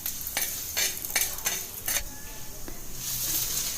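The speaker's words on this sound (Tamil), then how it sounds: "அதோட 10 பல்லு பூண்டை தோல் உரிக்காமல் சேர்த்து நல்லா கிளறி விடுங்க" Ten unpeeled garlic cloves frying with coriander seeds in a pan, stirred with a metal spoon that clinks and scrapes several times in a quick rhythm over a soft sizzle.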